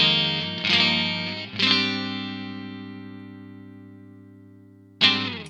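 Fender 1957 Custom Shop Stratocaster HSS on a clean amp channel with light reverb, three strummed chords ringing out and slowly decaying between strums.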